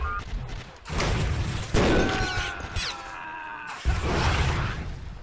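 Bursts of gunfire in the tank and armored vehicle game Armored Warfare, heard while driving an APC through a walled marsh area: several sharp, crackling volleys separated by brief lulls, moderately loud.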